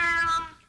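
A single close, clear cat meow plays as a sound effect, tonal and drawn out before it tapers off quickly.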